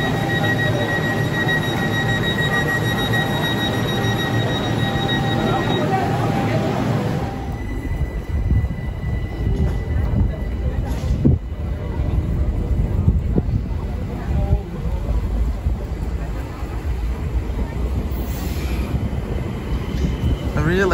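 A BLS train in Switzerland running on rails: a steady whining drive tone gives way to rumbling, clattering wheels with occasional sharp knocks, loud and close, while people talk faintly.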